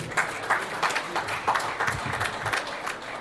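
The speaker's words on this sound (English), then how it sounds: "Please can we give our mayor a round of applause?" An audience at a Nigerian community festival in Canada claps for the mayor, a dense, lively applause with rhythmic bursts and scattered cheering, fairly close and steady.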